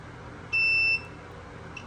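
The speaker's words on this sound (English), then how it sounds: "if there is a continuous circuit, then it will make a beeping sound like this" A multimeter gives a continuity-test beep while checking the parts of a dryer that will not heat, a single sharp, steady half-second tone, with a brief second beep starting at the very end.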